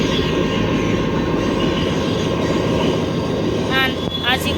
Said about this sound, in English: the train is heading straight for the terrain.